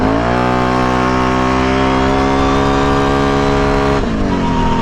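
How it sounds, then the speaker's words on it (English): A Can-Am Renegade ATV engine fitted with nitrous screams at high, steady full-throttle revs around 8,300 RPM, loud and close, then its pitch shifts near the end as the throttle changes. "I think it also revs up a lot higher now."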